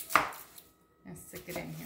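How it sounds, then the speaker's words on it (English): A small peeled onion is chopped on a board for pork tacos al pastor: a single sharp knife stroke near the start, then a pause and softer rustling scrapes and taps, close and fairly quiet. "here's a small onion. I'm just gonna peel it and do a simple chop"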